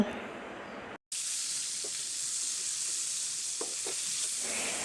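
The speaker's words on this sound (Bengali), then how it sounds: "একটা ফ্রাই প্যান অলরেডি আমি বসিয়ে তেল গরম করে নিয়েছি। এবার একে একে রানগুলো দিয়ে দেব।" Chicken drumsticks go into hot oil in a frying pan, and a steady, close sizzling hiss follows an abrupt cut near the start and continues evenly to the end.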